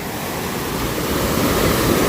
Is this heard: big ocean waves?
yes